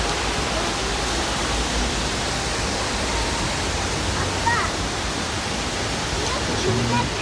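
Water in the Cheonggyecheon stream in central Seoul rushes in a steady, dense wash of noise that fills the whole stretch without pause.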